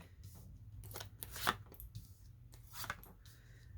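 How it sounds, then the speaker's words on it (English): A pre-shuffled deck of tarot cards being cut, giving soft, close papery riffles and slaps in a few short bursts against a quiet background. "I've pre-shuffled this deck before, so we're just going to go ahead and cut it"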